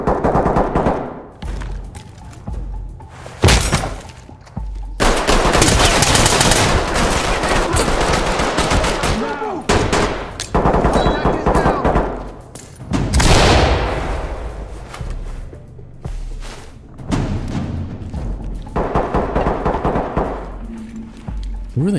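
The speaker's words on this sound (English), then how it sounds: "Who are they shooting? Are they shooting civilians?" Automatic gunfire in the tactical shooter Ready or Not, loud bursts of rapid shots and sustained volleys with gaps between them, mixed with voices talking over radio chatter.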